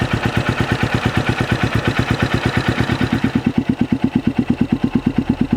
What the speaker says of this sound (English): Exhaust is on. It's already starting to blow up because it's fully heated up now. It sounds so much better.